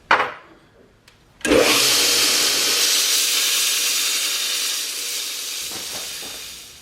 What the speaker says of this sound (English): I'm going to take the grinder here and just keep grinding it off until it fits in there nice and smooth